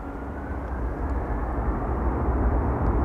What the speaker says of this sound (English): there's already an airplane landing on it, on runway 22